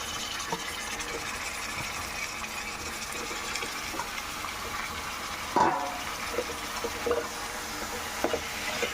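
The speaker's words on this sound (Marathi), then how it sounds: "ह्या पाकटाला कमीत कमी 4-5 वेळा तर धुवून घ्यायचं स्वच्छ पाण्यामध्ये।" Pieces of stingray fish are rinsed in clean water, soft splashing and sloshing throughout with a sharper water gush midway and occasional clinks, fairly quiet and close.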